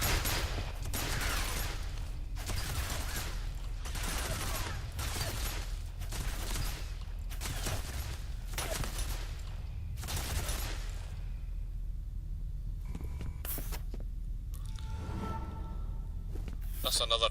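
Turret gunfire in the F.E.A.R. video game, heard as a run of loud rapid bursts roughly every second for about ten seconds, then giving way to quieter mechanical clatter and game ambience.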